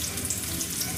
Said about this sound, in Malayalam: ഇനി നമ്മളിതിന് ചേർക്കുന്നത് അരിഞ്ഞു വെച്ചിരിക്കുന്ന ഉള്ളിയാണ്